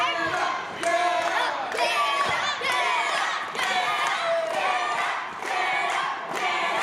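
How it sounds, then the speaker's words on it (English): Loud crowd at a school-gym wrestling show cheers and yells continuously, with rising surges of shouting and chanting throughout, dense and close. "Mullet Man feeding off of the energy from the crowd"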